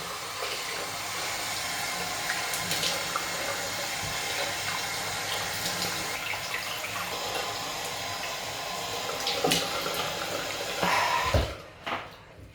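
Warm tap water runs steadily for face washing, a continuous close splashing flow with a few louder splashes and a brief rush near the end, then it stops; no one talks.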